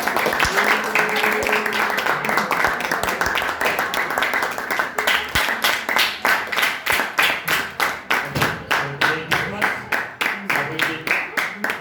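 Grade 10 students and their audience at a school presentation clap, first as a loose scattering of hands over some talk and background tones, then settling into slower, distinct, fairly close claps toward the end.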